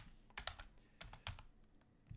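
Quick clicks of a computer keyboard come in short, uneven bursts as someone types Scala code, close and fairly quiet, with no voices.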